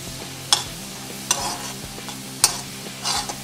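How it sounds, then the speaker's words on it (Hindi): Garlic cooking in butter and oil over a low gas flame, with a steady soft sizzle under several sharp stirring clinks of a utensil against the pan, no talking. "और लहसुन को अच्छे से हम पका लेंगे बटर और ऑयल में।"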